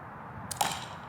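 A mini compound bow releasing an arrow at close range, one sharp snap followed by a quick second click in an otherwise quiet space.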